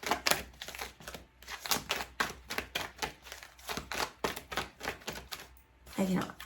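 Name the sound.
shuffling a deck of oracle cards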